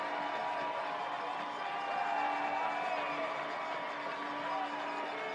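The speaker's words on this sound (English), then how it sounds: "Crowd making a lot of noise" A college football stadium crowd at a West Texas A&M versus Eastern New Mexico game roars steadily before a third down, a dense, continuous wash of cheering with a faint tonal hum running underneath and no break for the whole stretch.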